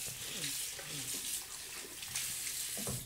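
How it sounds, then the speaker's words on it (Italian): Water runs steadily from a tap, a continuous hiss with faint clinks and movement underneath and some muffled voices. "Un po' di acqua."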